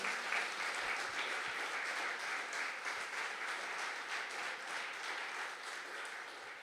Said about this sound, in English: give a big round of applause to our esteemed panel